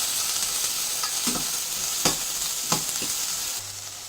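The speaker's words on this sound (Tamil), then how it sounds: "வெங்காயம் சேர்த்து நல்லா வதக்கிக்கோங்க." Onions sizzle steadily in a hot pan, with a few sharp scrapes and clinks of a spatula stirring them.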